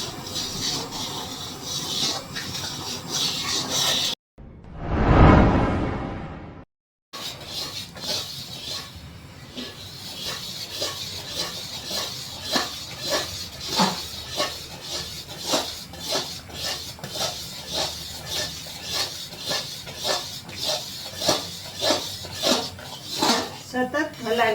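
A spoon stirs thickening milk in a pan for thabdi penda, repeated rhythmic scraping and rubbing strokes against the metal bottom, interrupted by a brief louder whoosh and gap.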